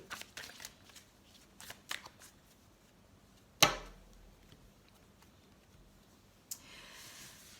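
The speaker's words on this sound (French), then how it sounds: "Donc, on va couper le jeu." Tarot cards being cut and shuffled, with a run of soft riffling flicks at close range, one sharp slap of the deck landing midway, then a brief burst of faint shuffling near the end.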